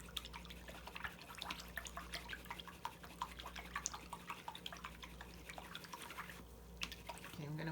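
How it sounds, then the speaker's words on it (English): Paintbrush rinsed in a cup of water during acrylic painting, giving steady soft dripping and light splashing throughout with faint background hum. "I'm gonna wash my brush out."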